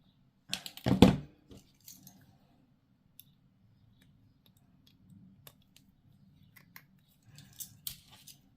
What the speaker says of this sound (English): Now I'm going to be cutting this off right below here.